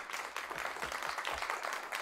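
A person claps their hands: a short run of soft, uneven claps over about two seconds, heard alone without speech.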